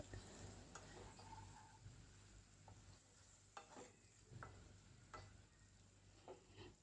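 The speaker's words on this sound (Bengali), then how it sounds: "আর একটু আমি নাড়াচাড়া করে নেব তরকারিটা" A spoon stirs a potato and okra curry with roasted ground spices in a pan, giving faint, intermittent scraping and a soft low sizzle in a quiet room.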